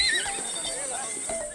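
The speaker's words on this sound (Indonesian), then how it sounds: "Dua kesatria memacu kuda Palawi, kuda milik Rato yang dikeramatkan." Horses ridden by mounted knights at the Pasola ritual whinny and neigh over a backdrop of distant crowd noise and voices, with faint hoof clatter.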